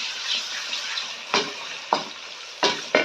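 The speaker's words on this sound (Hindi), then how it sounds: "इसको 2 मिनट के लिए भून के फिर इसमें हम मसाले ऐड करेंगे" Green chilies and ginger-garlic paste sizzle in a hot pan with a soft constant crackle, broken by a few sharper scraping stirs at irregular intervals.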